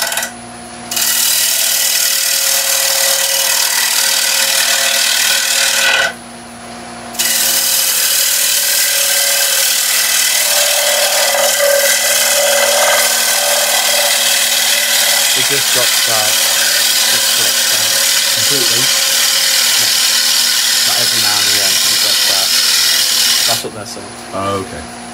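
A wood lathe spins steadily while a tool skims the surface of a turned bowl, giving a continuous close rubbing and whirring sound that stops briefly twice. A person talks at times over the machine.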